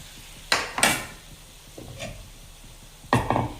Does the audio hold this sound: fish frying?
yes